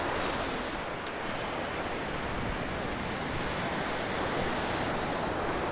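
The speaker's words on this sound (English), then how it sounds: "I'm just going to get hit by the ocean" Ocean waves rush and wash in a steady, loud roar of surf with no break, close to the microphone and alone without any voices.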